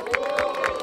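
Crowd at a Brazilian freestyle rap battle in Barueri, São Paulo, makes noise in a steady wash of cheering and murmur, with a few rhythmic pulses and faint voices inside the din.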